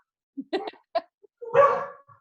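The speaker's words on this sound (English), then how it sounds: "Oh my gosh, my dog's barking." A cattle dog barks indoors in a short burst of several sharp barks, followed by a longer, louder bark that trails off, fairly close with no talk over it.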